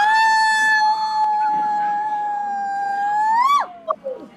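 Two people howl together like wolves, voices imitating the sound in one long sustained wail that rises and breaks off sharply, followed by brief laughing yelps, loud and close.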